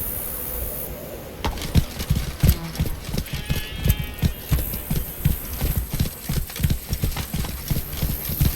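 In the video game The Witcher 3: Blood and Wine, a horse's hooves clip-clop steadily and close at a walking-to-trotting pace, with faint ambient background sound and a brief snort.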